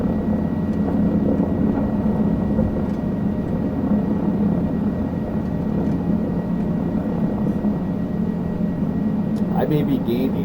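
A helicopter engine and rotor drone steadily and loudly throughout during a flight on a Brazil heli-tour, a constant dense roar with a slight shift near the end as throttle rises.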